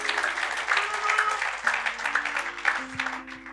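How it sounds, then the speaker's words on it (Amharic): A church congregation applauds during a sermon, a steady dense patter of many hands clapping at moderate volume, with faint sustained tones underneath. "አጨብጭቡ ለዚህ ጸጋ ባካችሁ።"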